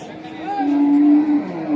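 A Holstein Friesian cow moos with a long, steady low call, joined by a shorter higher bellow from her calf; close and fairly loud, with faint crowd murmur behind.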